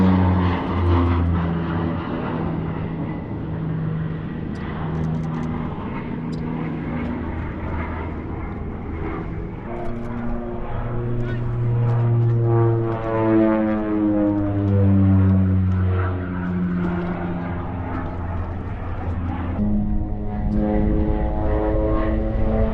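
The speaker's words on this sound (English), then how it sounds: "We got another airplane. What's this, Aid? Bronco, AV10 Bronco, I think" An OV-10 Bronco twin-propeller airplane flies past at an air show, a loud droning engine and propeller hum that swells and shifts in pitch as it passes, steady throughout.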